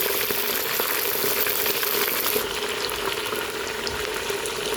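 Chicken meat frying in hot sunflower and flaxseed oil for plov, a dense, steady sizzle that sounds close up, with small pops and crackles running through it and no one speaking.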